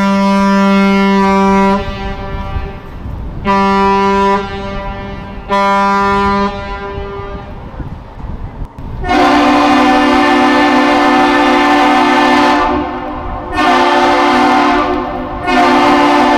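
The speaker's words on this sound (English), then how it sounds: "What you guys just heard is known as the Captain Salute. It is one long and two short blasts of the horn." The ship Miedwie sounds its deep horn on arrival at Duluth: three loud, separate blasts followed by a long, powerful blast that wavers in strength, ringing out across open water.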